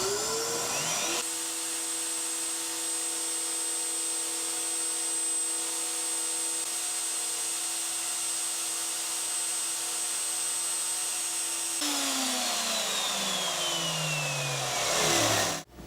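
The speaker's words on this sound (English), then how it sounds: "So let me go ahead and continue with the drilling program." A CNC router drills holes in a circuit board with a loud, steady high-pitched motor whine and spindle drone that keeps going and changes pitch at the start and end, with no talking.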